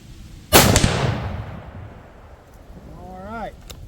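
Single rifle shot from a CZ 600 Alpha in 6.5 PRC, a sharp loud crack followed by a long rolling echo fading outdoors, with a brief voice near the end.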